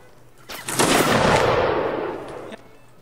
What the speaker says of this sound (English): They're bombarding that one piece of wall.